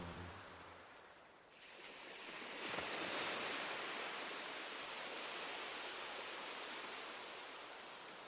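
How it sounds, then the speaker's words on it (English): Ocean waves in a sea soundscape wash in as a broad, continuous roar of surf that swells after a quieter start and then holds steady, with no voices. "They can hear the sounds of the ocean as one sound"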